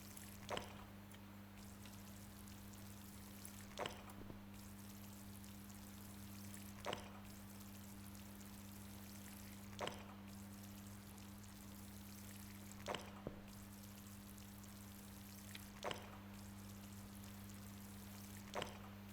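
Watering crops with a small watering can in the indie farming game Dirty Business: a steady pouring splash over a constant low hum, punctuated by sharp, evenly spaced ticks about every three seconds.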